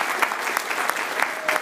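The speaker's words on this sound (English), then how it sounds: "Let's give our panelists a big round of applause." A water conference audience applauds its panelists in a short, dense burst of steady clapping, with a few louder claps rising above the crowd.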